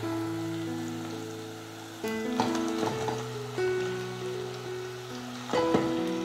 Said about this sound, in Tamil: இப்போ சிக்கன் சேர்த்துக்கலாம்.